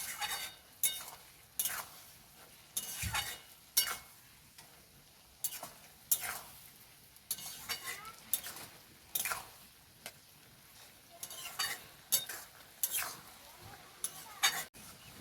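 A spoon stirs a carrot and fenugreek leaf curry in a pan, making repeated soft scrapes and clinks in an uneven rhythm, with faint sizzling underneath.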